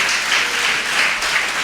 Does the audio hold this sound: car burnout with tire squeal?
no